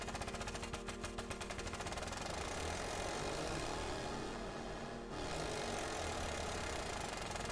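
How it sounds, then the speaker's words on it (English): One sustained note from a Massive X software synthesizer preset: a dense, buzzing, evolving tone with a fast pulsing flutter at first, smoothing out, briefly dipping near the end and then continuing, steady and loud with no talking. "I'm just holding down one note and it's doing all this."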